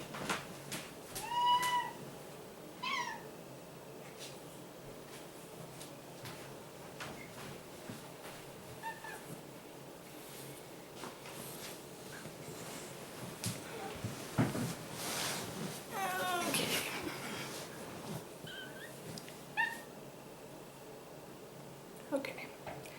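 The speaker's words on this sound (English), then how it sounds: "these cats are driving me crazy" Several cats meowing at intervals indoors, some cries close and loud, others softer, with a person talking around them.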